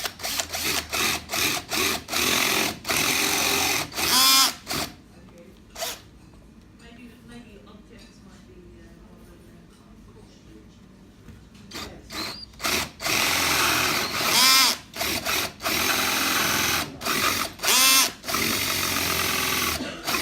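A power drill bores into material in repeated short bursts, starting and stopping as the bit snags, loud and close, with a long quieter pause in the middle during an introductory hand tools class.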